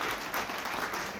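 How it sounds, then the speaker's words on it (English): Wedding guests give the groom a dense burst of applause, many hands clapping at once in a continuous, fairly loud wash that fills the whole short moment. "please a massive round of applause for our groom, Adam."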